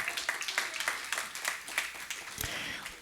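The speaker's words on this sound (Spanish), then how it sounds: "Dale palmas al Señor" A church congregation claps hands in praise, with sharp, rhythmic claps at moderate loudness repeating steadily, plus a faint low thump near the end.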